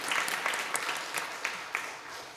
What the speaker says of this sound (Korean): 그 은혜와 선물 주신 하나님께 우리 마음을 다하여 큰 박수로 영광을 올려드리겠습니다.